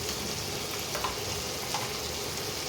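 Tomato and ginger garlic paste sautéing in a pan, a soft continuous sizzle with faint stirring scrapes, close and steady without talk.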